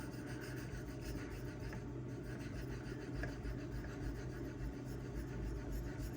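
A ZDP-189 or MagnaCut steel knife is sharpened under pressure on a Suehiro Debado whetstone, making a continuous close, quiet, gritty rasp from repeated strokes, with no talking.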